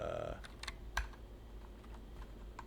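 Keys clack on a computer keyboard in scattered, light taps while working in Vim, with a brief tone at the start and one sharper keystroke partway through.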